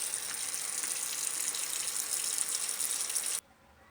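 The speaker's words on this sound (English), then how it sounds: "Water bath number 3, and picking out a few more things." Running water gushes steadily into a basin as greens are rinsed in a water bath, loud and continuous with no talk, then cuts off abruptly near the end.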